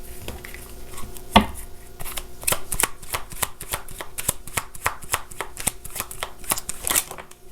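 A deck of tarot cards is shuffled with rapid, repeated riffling and snapping, one strong slap near the start, then steady crisp card flicks close up, with no talk.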